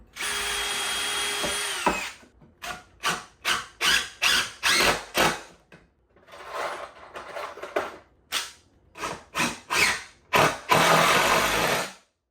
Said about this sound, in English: Let me screw this down first.